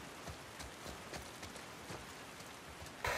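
Rain falling in Seattle in the video game The Last of Us Part II, a soft, continuous patter with scattered heavier drops tapping on surfaces, and a brief louder burst at the very end.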